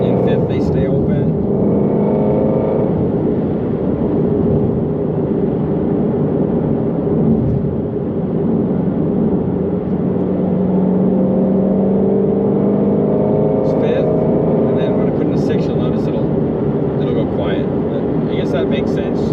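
A 2020 Ford Mustang Shelby GT350R exhaust with its baffles open drones loudly and steadily while cruising in fifth gear, with a continuous engine rumble heard from inside the car.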